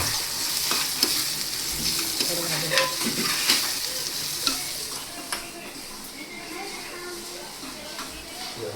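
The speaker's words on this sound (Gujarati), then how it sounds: "આ ડુંગળી નાખી અને થોડી વાર છે ને બ્રાઉન કલર થાય ને ત્યાં સુધી હલાવશું" Onions frying in a pan for a Gujarati drumstick-leaf bhaji, a loud close sizzle with repeated scraping and stirring strokes and a voice talking over the cooking.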